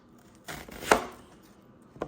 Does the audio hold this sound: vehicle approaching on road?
no